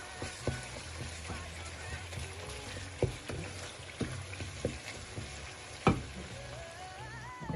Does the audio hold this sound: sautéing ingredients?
yes